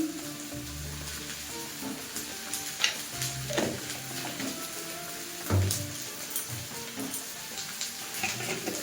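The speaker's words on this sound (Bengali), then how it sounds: "এখন আমি আদাটা এর সঙ্গে দিয়ে কষিয়ে নেব।" Ginger stirred and sautéed with browned onion in a pan for a small-fish curry: a soft sizzle under repeated scraping and stirring strokes of a spatula, close and fairly quiet.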